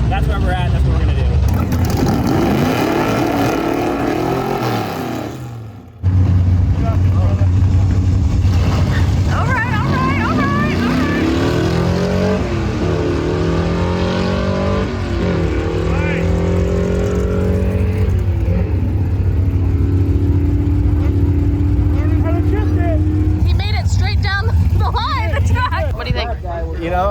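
A gasser drag car roars down the track, its engine climbing in pitch and dropping at each gear shift through several gears, loud and sustained; a voice speaks over it early on.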